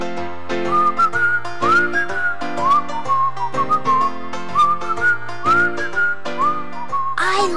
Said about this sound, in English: I just want to whistle like a bird.